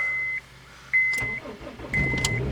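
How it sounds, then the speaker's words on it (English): A 2003 Honda Civic is started with its key: chimes and beeps sound in the cabin, then a starter crank and the engine catching, with a second round of beeps and cranking nearby. "Check all keys to ensure each will start the engine."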